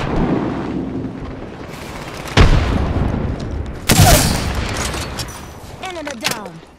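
In the Apex Legends video game, a frag grenade goes off with heavy booming blasts, joined by bursts of gunfire in a busy firefight.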